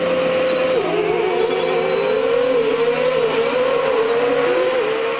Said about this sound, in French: Ces bruits de moteur, on les entend depuis bien longtemps ici, sur le circuit d'autocross de Saint-Georges.